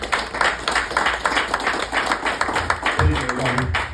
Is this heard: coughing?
no